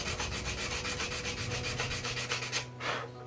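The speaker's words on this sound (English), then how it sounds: "So I'm going to just kind of lightly sand that." Sandpaper lightly rubs a part from a lawn mower opened up for a pull cord repair, making close, steady, rhythmic scraping strokes that stop near the end.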